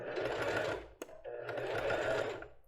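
Sewing machine stitching lace for a basic lace bra, two fast continuous whirring runs at close range split by a brief pause and click, no talk over it.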